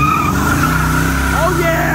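A 1986 Ford Mustang GT Fox Body with a 5-speed spins its tires, producing a loud, close squeal over a heavy engine roar, with voices mixed in.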